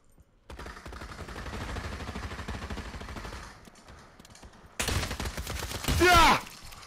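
Rapid automatic gunfire from a free-for-all deathmatch in the VR shooter Pavlov VR, played on PSVR2. A sustained stream of close shots is followed by a brief lull and then a louder, harsher burst near the end.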